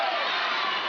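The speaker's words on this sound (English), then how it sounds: "Crowd calling for a travel." Basketball crowd at an NBL game between Melbourne United and the New Zealand Breakers, a dense, loud roar of shouting voices calling for a travel, sustained throughout without a break.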